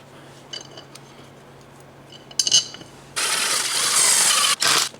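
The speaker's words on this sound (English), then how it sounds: "Now we can go ahead and get our 6 Allen bolts back in here that hold the two halves of the wheel together." Small Allen bolts clink and rattle as they are set back into the two halves of an RC car wheel during an air-filled tire install, a few light metallic taps followed by louder, sustained scraping and rustling handling noise nearby.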